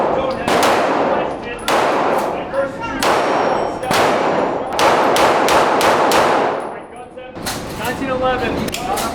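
Loud, close gunshots ring out at an indoor shooting range in Port Coquitlam, a long series of sharp cracks in irregular rhythm, some spaced apart and some in quick bursts, including from a 1911 pistol and a Remington 870 pump-action shotgun.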